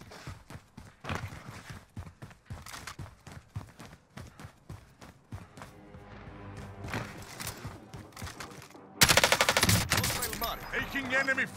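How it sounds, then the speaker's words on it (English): Enemy gunfire crackles in a Warzone match, with scattered shots and short automatic bursts over footsteps, ending in a loud close volley of rapid fire near the end. "Taking enemy fire."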